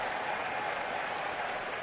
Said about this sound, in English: A little sarcastic applause by some of the Diamondback fans